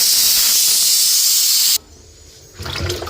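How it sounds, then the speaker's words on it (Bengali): A pressure cooker boiling greens lets off a loud, steady steam hiss at close range that cuts off sharply partway through, leaving a low rumble and then a burst of clattering noise. "শাকটা এখানে সিদ্ধ বসাইছি প্রেশার কুকারে"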